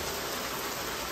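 A heavy rain downpour makes a dense, even hiss of water pouring down, constant and fairly close, with no voices.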